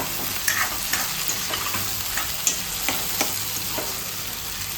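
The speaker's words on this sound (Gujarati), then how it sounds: "ટામેટા ગળે ત્યાં સુધી એને શેકાવા દેવાનું" Tomatoes frying in a pan for Gujarati sweet-and-sour dal, with a steady close sizzle and repeated scrapes of a spoon stirring through them.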